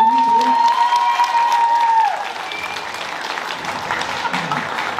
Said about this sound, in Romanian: vă rugăm un rând de aplauze pentru